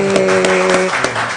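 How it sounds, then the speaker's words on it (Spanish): Audience applause welcoming the Los Porfiados group at a cultural talk on superhero cinema, a loud, close burst of clapping with a sustained tone and a whoop ringing over it. "Un aplauso a Los Porfiados."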